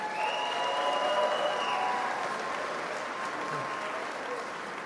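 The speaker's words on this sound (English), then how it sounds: "let's give them a round of applause" Sustained audience applause fills a festival of Native arts performance hall, a dense, steady wash of many hands clapping that holds at even loudness before easing slightly toward the end.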